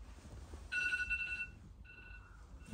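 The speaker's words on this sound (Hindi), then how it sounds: "समक्ष उठ जा बेटा, फोन बंद कर दे यार" A phone ringtone chimes in two short electronic bursts in Halifax, Canada, fairly faint against quiet background noise.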